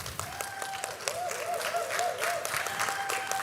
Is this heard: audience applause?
yes